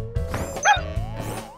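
A cartoon character howls like a dog in a Halloween kids' cartoon, a wavering, sustained voiced howl broken by short bursts and a sharp clatter partway through.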